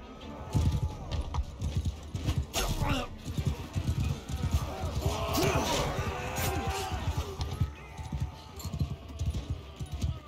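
Horses galloping through a battle in the Mount and Blade 2 Bannerlord video game, with dense, rapid hoof clatter and crashes, mixed with someone talking over the action.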